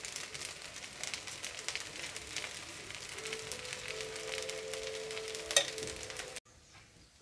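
Rava roti frying in ghee on a hot pan gives a steady, close sizzle that runs for several seconds, broken by one sharp click near the end before a sudden drop to near quiet.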